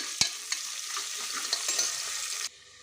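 Chopped onion, a small tomato and four green chilies frying in oil for a country-chicken curry, a close, bright sizzle with a sharp knock and a few stirring scrapes, cutting off abruptly near the end.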